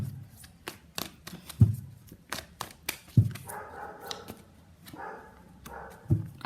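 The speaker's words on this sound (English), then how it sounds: "Dog is barking." A dog barking a few times in the background, short sharp barks spaced a second or more apart among handling noises and rustling, somewhat distant and moderately loud.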